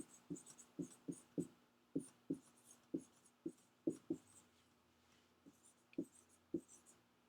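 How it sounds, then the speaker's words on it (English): A pen writes out math steps on paper in a run of quick, crisp scratches and taps, near and fairly faint, coming in uneven bursts with brief pauses between. "let's write that down so we don't, we know what we just did there"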